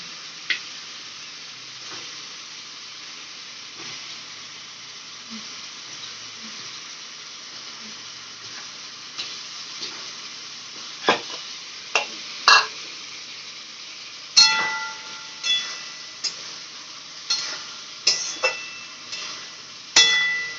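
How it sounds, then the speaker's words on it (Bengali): Potatoes and egg frying in a pan, a soft continuous sizzle with spatula scrapes and knocks that start sparse, then come in quick, louder strokes through the second half. "আলু ভাজা আলু আর ভাজা ডিম দিয়ে দিচ্ছি"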